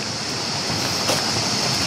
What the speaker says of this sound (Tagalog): Mukhang malakas ang tubig.